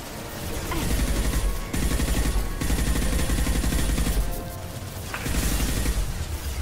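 Sustained heavy weapon fire in Mass Effect 2, loud rapid rounds in long bursts broken by brief pauses, with crashing impacts and mechanical clatter and no talk over it.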